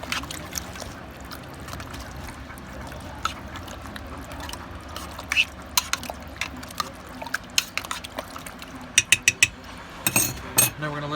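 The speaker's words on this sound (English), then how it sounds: "And we're once again just going to give it a nice good stir." Thick cheesy taco chip dip is stirred in a pot, with a low bubbling murmur and scattered clinks and scrapes of the spoon against the pot growing more frequent toward the end.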